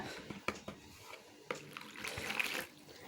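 Water poured into a plastic container while preparing homemade aloe vera soap, a close splashing pour building over about a second and a half after a few soft knocks, with no talk.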